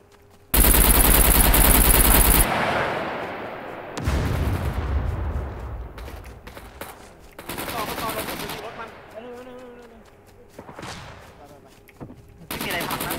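Loud, close bursts of automatic gunfire in SCUM during a base raid, a long sustained volley followed by scattered shots and rumbling, with voices talking between the bursts.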